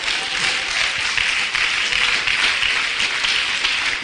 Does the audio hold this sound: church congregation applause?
yes